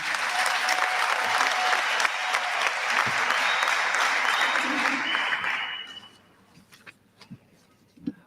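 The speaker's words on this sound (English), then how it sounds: "Let's give them another round of applause." Dense audience clapping at a business school graduation ceremony, loud and sustained for about six seconds before fading to a few scattered claps and faint room noise.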